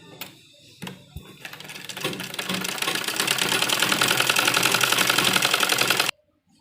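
A sewing machine stitches the sleeves of a dupatta being made into a suit, starting after a few clicks with a steady, fast mechanical chatter that builds and runs loud and even for about four seconds before stopping abruptly.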